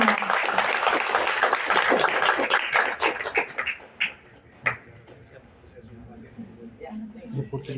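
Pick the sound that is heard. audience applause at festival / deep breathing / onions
audience applause at festival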